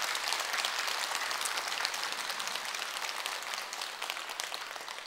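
Temple congregation applauding during a dharma talk at Jogyesa, a steady, even wash of many hands clapping at moderate distance, fading slightly toward the end, with no voices over it.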